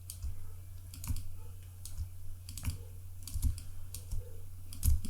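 Mouse clicks during photo editing, a steady series of sharp, fairly quiet clicks over a low constant hum, with no voice present.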